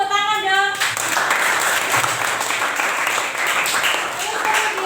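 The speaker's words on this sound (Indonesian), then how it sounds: "Tepuk tangan dong" A classroom of students clapping hands together in a burst of applause, dense and close, briefly following a teacher's voice and continuing steadily for several seconds.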